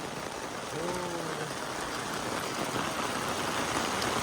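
Steady rain falls on a paddy field in a constant hiss, with a brief faint voice-like tone early on.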